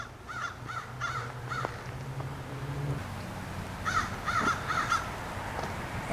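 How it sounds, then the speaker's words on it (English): Several crows caw in repeated bursts, fairly close, while a merlin mobs them during a winter Christmas Bird Count, with a low steady hum beneath; the calls come in two clusters separated by a brief lull. "We've got a merlin mobbing a couple of crows."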